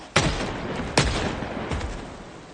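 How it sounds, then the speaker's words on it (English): A shotgun loaded with buckshot fires at zombies in Project Zomboid, two sharp loud blasts about a second apart and a softer third shot, each trailing into a long noisy decay with no talk. "every time they hear a gunshot they have to pause"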